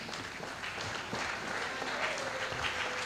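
An audience at a French-speaking community celebration applauds steadily, a dense even patter of many hands at moderate distance, with faint voices mixed in.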